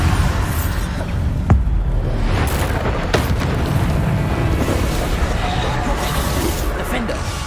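Bombarda blasting spells explode in Hogwarts Legacy combat, a couple of sharp booms standing out from a dense, loud rumble of game action.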